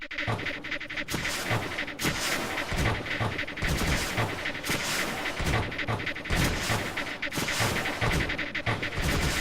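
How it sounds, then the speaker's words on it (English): Weapon fire in the strategy video game Creeper World 2, with the fire rate turned up: a dense, fast rhythm of sharp repeated blasts and crackling impacts, loud and continuous, with no voices. "so I'm going to kick up my weapon fire rate"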